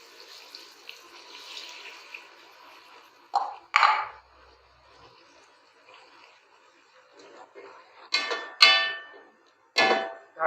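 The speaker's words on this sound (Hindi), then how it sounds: "मसाले के साथ इसमें थोड़ा सा पानी डालेंगे।" A little water is poured into spices in a cooking pot for beef pulao. Short splashy pours come in three bursts over faint, quiet background noise in the kitchen.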